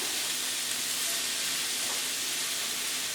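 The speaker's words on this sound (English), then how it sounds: "So I'm going to let this cook down" Vegetables for a vegan dip cooking down in a pan over medium heat, giving an even, continuous hiss and sizzle that holds steady at close range, with no voices.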